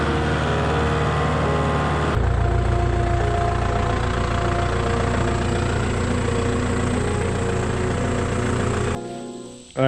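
Farm tractor engine idling steadily at close range, a continuous low rumble with a faint shift in tone partway through before cutting off near the end, out in crop fields brought in for plowing food plots.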